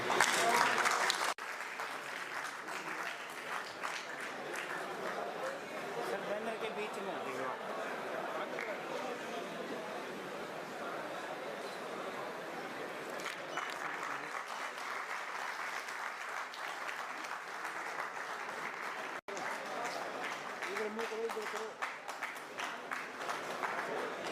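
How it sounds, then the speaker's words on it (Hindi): Audience at a Delhi Police Academy drug-awareness session applauding, a sustained, even round of clapping from a hall full of people, with some chatter beneath. "ताली नहीं बजा सकते आप?"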